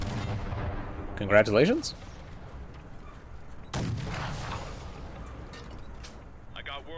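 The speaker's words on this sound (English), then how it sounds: "I can hear some gunshots off in the distance" Gunshots ring out in the Fallout: The Frontier video game, with a couple of sharp booming reports amid background game noise. Someone talks over them, and another voice speaks briefly.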